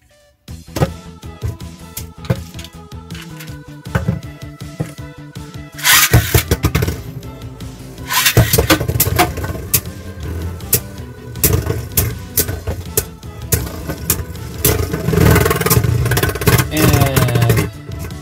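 Two Beyblade Burst tops, Superking and World Spriggan, spin and clash in a stadium, giving a loud, busy rattling whir with repeated sharp collisions that intensify midway and continue to the end, no talk over it.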